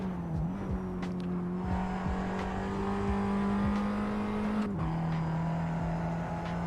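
A race car engine in a Tatuus open-wheel sim racing broadcast holds a steady high drone. It drops pitch once mid-run, then settles at a lower note, with faint whirring passes behind it.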